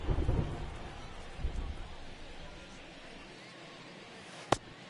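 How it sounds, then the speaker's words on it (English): In the baseball video game MLB The Show 23, a low rumble of thunder opens over steady hissing rain, fading to a constant downpour with a single sharp click near the end. "This rain is not letting up"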